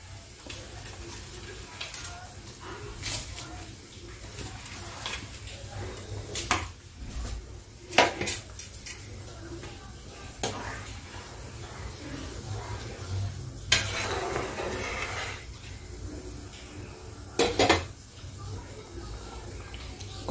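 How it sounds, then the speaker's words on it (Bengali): Gobindobhog rice poured into dal simmering in a pot, giving a low bubbling simmer with soft stirring and scattered clinks of a utensil against the pot, close and moderately quiet throughout. "ডালটা একটু ফুটে গেছে। এবারে আমি চালটা দিয়ে দেবো এর মধ্যে।"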